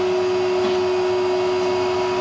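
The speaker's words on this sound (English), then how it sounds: "So we ask for vacuum." A vacuum cleaner runs loud and close in a hotel room, a constant motor whine with a strong steady hum and airy rush, no voices.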